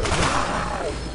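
A Death Machine minigun in Black Ops Zombies firing a dense, continuous, loud roar of shots that lasts the whole moment.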